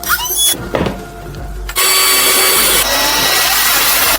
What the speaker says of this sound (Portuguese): Para facilitar, uso uma broca pequena e faço um furo preliminar